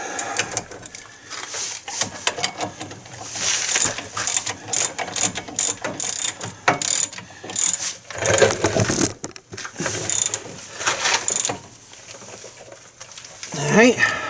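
A ratchet tightens the brake caliper pin bolts on a 2014 GMC Sierra / Chevy Silverado front brake, giving close, fast clicking in uneven bursts across the clip with some movement noise between strokes.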